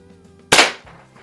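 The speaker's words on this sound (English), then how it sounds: "I'm just shooting 20 feet across the garage here" A Hy Score model 800 pellet gun fires once across a garage, a single sharp loud crack with a short ringing decay, close.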